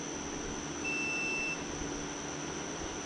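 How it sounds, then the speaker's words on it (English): A camera emits an electronic beep during a look over a John Deere 318 lawn tractor with a Briggs repower: a thin, steady high tone with a brief brighter pitch partway through, faint over low background hum. "I have no earthly idea why my camera is beeping, but it's just beeping away at me."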